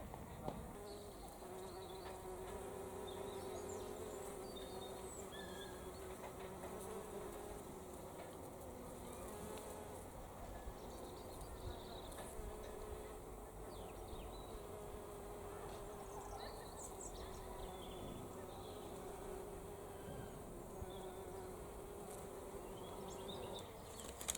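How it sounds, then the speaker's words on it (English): Bees hum and buzz steadily at a quiet, distant level in a kitchen garden, with occasional faint insect whines drifting past in calm outdoor surroundings. "Aren't the bees just glorious?"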